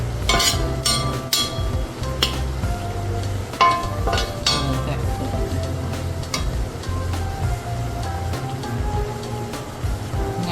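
Meat for a Mongolian dish sizzling hot in a pan as it is stirred, a steady crackling hiss with scraping and clacking of the utensil, close and alone with no talking.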